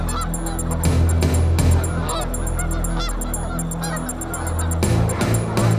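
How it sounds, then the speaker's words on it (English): A large flock of migrating snow geese honks continuously, many overlapping calls near and far, loud and busy throughout. "The sound of migrating waterfowl."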